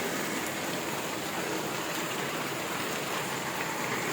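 Steady rain pours down, a dense continuous hiss of drops hitting surfaces, with no voices.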